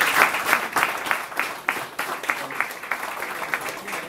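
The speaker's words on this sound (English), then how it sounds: "How about a round of applause for our barbecue extraordinaire?" Scattered applause at a Rotary club meeting, a smaller group clapping with distinct individual hand claps in an uneven rhythm, moderately loud and continuing steadily.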